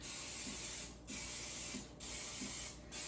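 Oil sprays onto a muffin tin in three steady hissing bursts of about a second each, separated by brief pauses, close and fairly quiet.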